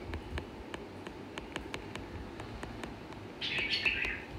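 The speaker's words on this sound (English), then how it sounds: "if you are hearing a bird" A pet bird chirps repeatedly in the background, short bright tweets in a loose regular rhythm, followed by a louder warbling burst near the end, all fairly faint over quiet room noise.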